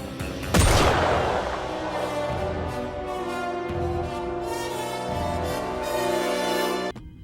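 A gunshot from the spy game 007 First Light bursts loud at the start, followed by a sustained rumbling din of gunfire and action that stays steady for several seconds before cutting off abruptly near the end.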